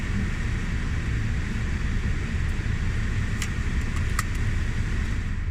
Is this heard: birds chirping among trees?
no